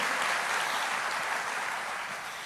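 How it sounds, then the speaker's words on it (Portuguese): A church congregation claps in praise, a dense, even wash of applause that stays strong and close for the whole stretch, slowly easing slightly toward the end. "Aplauda o Senhor"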